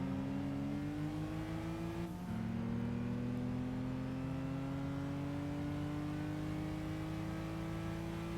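Race cars lapping in Gran Turismo 5, a Peugeot and two Mitsubishis among the field, with several engines droning steadily at high revs and pitch climbing through the gears; one engine note drops sharply on a shift partway through, continuous and loud with no talk.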